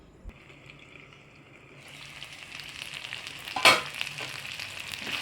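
Partly cooked chicken fries in a pan as ground spice powder goes in and is stirred through, a quiet start swelling into a stronger sizzle with a sharp scrape near the middle.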